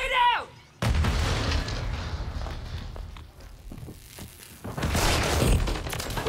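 Grenade explosion in Call of Duty: a sudden heavy boom followed by rumbling gunfire and blasts, with a player shouting over the game audio.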